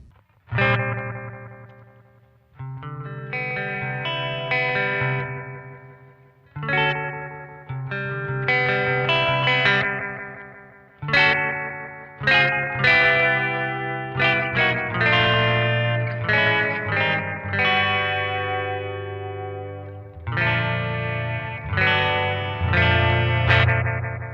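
Plucked electric guitar phrases through a Moog analog delay pedal in short mode, with short, slapback-style echoes trailing each note, played alone with a slightly gritty, modulated tone.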